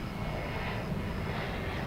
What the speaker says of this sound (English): planes are taking off now